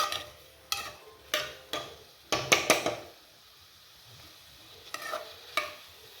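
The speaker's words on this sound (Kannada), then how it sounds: "ಸಾಲ್ಟ್ ಹಾಕಿ ಆಲ್ರೆಡಿ ಇದು ಬೇಯ್ತಾ ಇದೆ ಈರುಳ್ಳಿ." Onions frying in a pan with salt over a medium flame, with a soft sizzle beneath repeated sharp scrapes and clacks of a spoon stirring against the pan.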